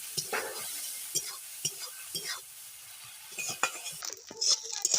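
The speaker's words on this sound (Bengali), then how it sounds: "দিয়ে দিচ্ছি অল্প একটু হলুদ, আর একটুখানি লবণ।" Crab pieces fry in oil with turmeric and salt, a continuous close sizzle under repeated stirring, with utensil scrapes and light metallic clinks against the pan.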